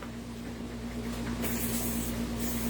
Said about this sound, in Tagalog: Then, spray tayo dito sa slide stopper.